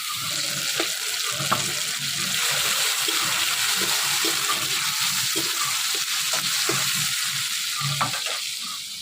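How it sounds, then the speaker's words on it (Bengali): Home-grown tomatoes fry in oil in a village Bengali kitchen, giving a steady close sizzle with scattered scrapes and clinks of stirring throughout. "তেলের মধ্যে এবার টমেটো দিয়ে দেবো।"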